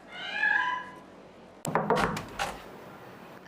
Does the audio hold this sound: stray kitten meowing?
yes